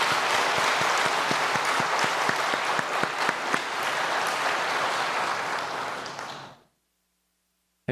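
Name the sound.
applause for the keyboard and piano accompanists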